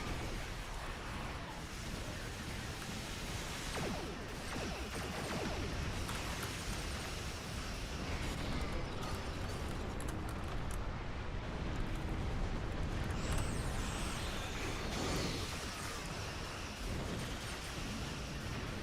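Dense, continuous weapons fire and rumbling explosions from a space battle in the Star Trek Online video game, a loud unbroken wash of blasts and bursts lasting throughout with no clear gaps.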